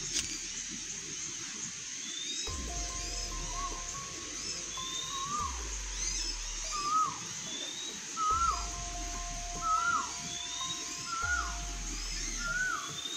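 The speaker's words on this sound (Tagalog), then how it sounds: "Boses ng ibon yung maririnig mo." Birds call out in a forest, chirps and short whistled notes repeating again and again over a steady high insect drone and low rumbles.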